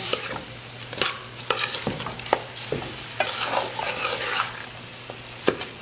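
Rice being stirred in a pot for chicken pelau, a steady scraping with clinks of the spoon against the metal and a faint sizzle underneath, close and moderately loud throughout, with no talking.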